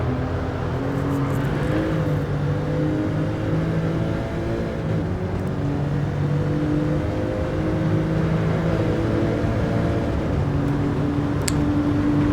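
A Porsche engine in a VR racing game hums steadily, with smooth rises and falls in pitch as it accelerates and eases off, loud and continuous throughout.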